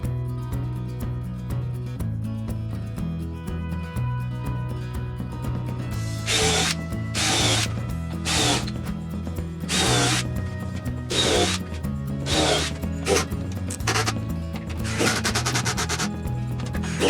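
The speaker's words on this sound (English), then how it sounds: "I'm going to come back and put in some screws." A power drill drives screws into a wooden storage-bin shelf unit in a run of short, loud whirring bursts separated by brief pauses, over a steady background hum.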